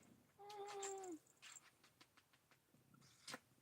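A cat gives one clear, close meow lasting under a second, followed by soft scuffling, light taps and rustling at low level, with no talk.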